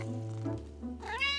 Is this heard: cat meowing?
yes